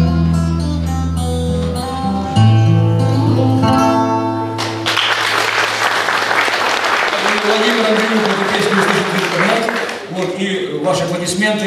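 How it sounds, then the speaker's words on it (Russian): Audience applause at a concert evening in Kryvyi Rih, a dense, loud burst of clapping that swells after a musical passage and continues steadily, with talking near the end. "Ваши аплодисменты, тому подтверждение"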